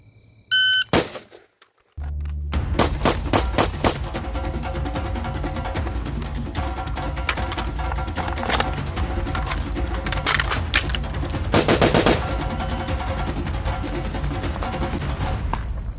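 Pistol fired during a shooting standards drill with a reload, a brief sharp blast and beep early on, then a long dense, loud stretch of rapid harsh bangs and rattling that continues to the end.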